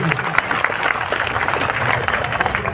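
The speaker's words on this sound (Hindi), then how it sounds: "एक बार जोरदार तालियां राष्ट्रपति के लिए" A crowd at a rural religious gathering gives loud applause for the President, dense clapping with a mix of crowd voices and possible talk over it.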